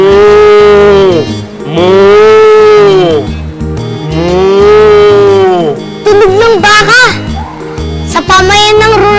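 A voice imitates a cow with three long, loud drawn-out moos in a row, followed by a quicker run of vocal sounds, close and alone.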